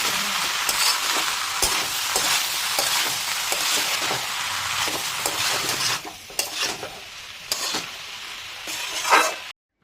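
Shrimp mixture being stirred and fried over high flame in a hot pan, a steady close sizzle with repeated scraping strokes of the spatula and a few sharper clinks near the end.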